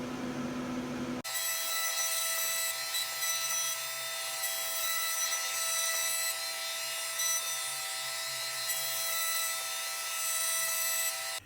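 A cutter machines a pocket into an aluminum slant six intake manifold, a steady, loud, high-pitched whine of metal cutting that starts abruptly and runs continuously without a break.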